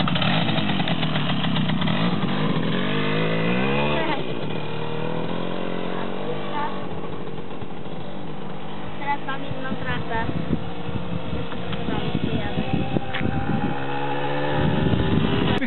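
A Romet Pony motorcycle engine buzzes continuously while being ridden on a practice course, its pitch rising and falling with throttle, with an instructor talking over it throughout.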